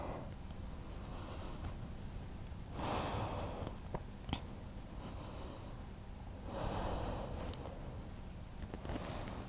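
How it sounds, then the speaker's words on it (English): Two slow, deep breaths taken during a Shooting Star yoga flow, each a soft, airy swell of breath lasting about a second, close and quiet, with no talking. "Two deep breaths."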